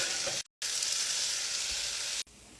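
Potatoes frying in a pan give off a steady, close sizzle that runs almost unbroken, with two brief cuts, and no one speaking over it.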